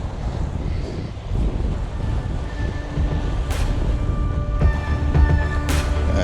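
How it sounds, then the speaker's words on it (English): Wind gusting steadily against a microphone at the seashore near sunset, with waves and surf rumbling low underneath, a continuous roar that swells slightly in the second half. "maybe try to block the wind just a little bit"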